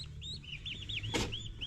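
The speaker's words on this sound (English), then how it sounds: "that's the turkeys." Turkeys calling on a farm, a run of faint high chirping, warbling calls repeating through a short stretch, with a brief louder burst near the end and a low steady hum underneath.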